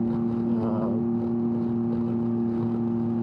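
A Can-Am Ryker motorcycle fitted with a loud Two Brothers S1R exhaust drones steadily at a constant engine speed, close and loud throughout, with a brief wavering rise near the start and no talking.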